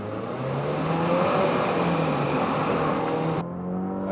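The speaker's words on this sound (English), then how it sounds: "let's do a quick 0 to 60 run" A turbocharged Infiniti QX60 three-row luxury SUV in sport mode launches for a 0 to 60 run, its engine droning steadily and rising in pitch close up through a shift before the sound cuts off.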